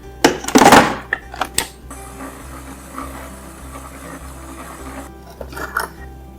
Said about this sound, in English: Place 1 cup of cane sugar in a small food processor and process until it is super fine